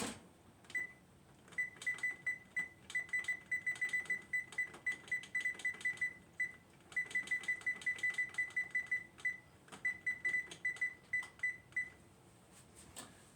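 An oven timer in a home kitchen beeps steadily in rapid repeating clusters, quiet and close, with a short pause partway through and faint room noise underneath.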